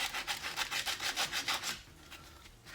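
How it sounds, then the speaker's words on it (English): Rust buildup being scraped off the drum brake of a 2000 Mazda Demio 1.5, a rhythmic back-and-forth rasping of about a dozen strokes that then stops, leaving faint background. "So just getting the excess rust buildup, which isn't much at all."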